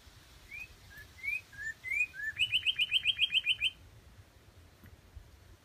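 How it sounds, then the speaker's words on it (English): A cardinal sings beneath a haulikoa tree at Honu'apo Bay: a string of clear rising whistles, then a fast, evenly repeated trill. It is fairly close and heard alone over a soft background hiss. "Can't really see where he's hiding, but I think it's probably a cardinal."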